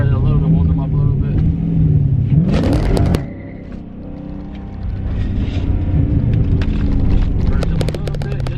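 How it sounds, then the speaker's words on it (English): A Dodge Challenger/Charger Scat Pack or Hellcat spins its tires briefly to warm them, with a deep engine rumble rising into a rev. Someone talks over the car throughout. "See if I can burn the tires a little bit, warm them up a little bit."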